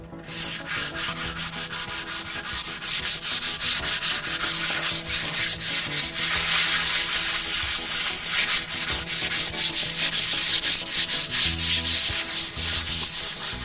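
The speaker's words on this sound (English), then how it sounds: "we're sanding the counter down with 150 or 200 grit sandpaper" A countertop being sanded by hand with 150 or 200 grit sandpaper, a continuous rasping scrub repeated in quick regular strokes, close and loud throughout.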